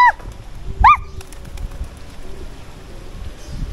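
Pigeons or doves cooing near a hotel in Bandung, two short coos close by at the start, then fainter calls over low outdoor background noise.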